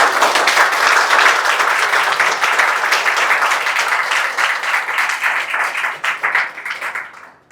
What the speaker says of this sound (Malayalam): എൻ്റെ സ്റ്റാൻഡപ്പ് ബിറ്റ് ഇഷ്ടപ്പെട്ടെങ്കിൽ നിങ്ങളുടെ റിയാക്ഷൻ ഒന്ന് കൈയടിച്ചേ